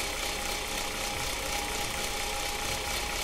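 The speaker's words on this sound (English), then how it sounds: "Changes in the engine sound." A car engine with a faulty fuel pump runs steadily at idle, giving a constant mid-pitched hum with a faint rattle and knock under a broad hiss, with no pauses throughout.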